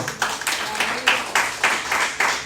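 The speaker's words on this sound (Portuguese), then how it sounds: "Diga amém e aplauda ao Senhor com o seu melhor" A church congregation claps together in praise, loud, close rhythmic bursts of many hands roughly twice a second, with faint voices mixed in underneath.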